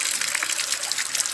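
Water gushes strongly and steadily from the outlet of a newly installed electric water pump, a loud, continuous rushing splash with no talking.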